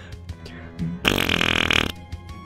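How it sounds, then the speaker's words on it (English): A cartoonish fart noise from a character in the video game Night in the Woods, one loud, roughly second-long raspy burst with a broad buzzy texture, set amid quieter game sounds. "Did you just actually make a fart noise?"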